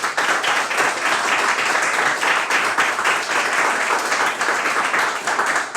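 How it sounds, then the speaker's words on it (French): A studio audience applauds loudly and steadily, a dense wash of many hands clapping at once that holds strong from start to finish. "Je vais vous demander, charmant public, de vous applaudir"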